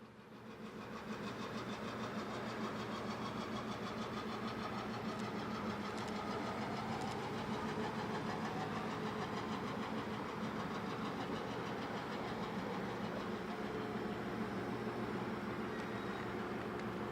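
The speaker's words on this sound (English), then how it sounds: "The luxury business train is departing on a deadhead eastbound run to Montgomery, Alabama." Royal Canadian Pacific luxury business train departing on a deadhead eastbound run, a steady loud diesel locomotive engine rumble with constant rail noise holding throughout, no talk.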